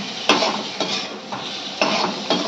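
Oil fries in a pan with a dried chili tempering. A steady sizzle is broken by regular spoon or spatula stirring strokes about every half second, close up with no voices.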